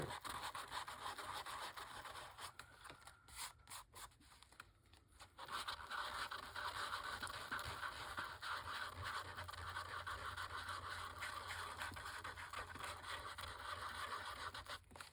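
A small sander scuffs a printed picture to give it an aged look, producing a steady close scratchy buzz, with a brief lighter patch before it resumes at full strength.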